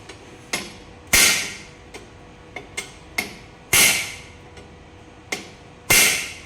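Metal hammer blows ring out against a 1996 Yamaha YZ250 motorcycle frame being straightened, about a dozen sharp, close strikes in an uneven rhythm, several hard ringing hits mixed with lighter taps.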